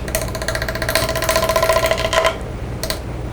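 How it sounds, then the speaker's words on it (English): A bowl gouge makes a careful push cut into a flame box elder platter spinning on a lathe. It gives a rapid, rhythmic chattering buzz for about two seconds, then stops, leaving a quieter hum and one brief scrape. "I'm taking a bowl gouge, and I'm going to very carefully just make a push cut"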